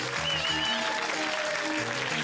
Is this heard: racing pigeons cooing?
no